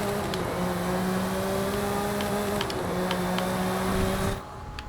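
A 1992 Ferrari 512 TR with 825 horsepower roars in a racing video game, a steady sustained engine tone holding and shifting pitch before cutting off abruptly near the end.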